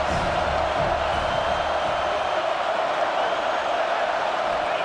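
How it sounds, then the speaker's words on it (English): A football stadium crowd at a college game roars in a steady, dense wash of cheering that stays loud and unbroken throughout, with no clear voices standing out. "This crowd rising up, sensing that its defense needs some help."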